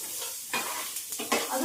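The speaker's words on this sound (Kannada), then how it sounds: "ಅದು ಫ್ರೈ ಆಗಕ್ಕೆ ಎಷ್ಟು ಎಣ್ಣೆ ಹಾಕ್ಬೇಕು ಅಷ್ಟು ಎಣ್ಣೆ ಹಾಕ್ಬೇಕು" Grated dry coconut frying in oil with a soft, continuous sizzle, broken by a couple of brief stirring scrapes in a short stretch without speech.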